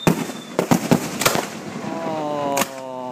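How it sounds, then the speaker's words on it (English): Fireworks explode at a July seaside display in Torbay, with a burst of sharp cracks and pops in quick succession, then a lone louder bang, heard from a crowd with faint talk under it. "I gotta watch the fireworks"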